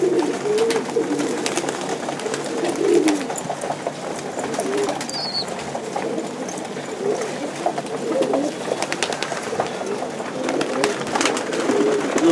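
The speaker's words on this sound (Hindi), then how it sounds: "मैं फैंसी ते दूजे मलवई कबूतर दिखाना ते उन्हां नूं मैं दाणा पाउण लगा" Fancy and Malwai pigeons cooing softly and continuously in a flock as grain is scattered for them, with scratchy rustles and clicks of feeding birds close by.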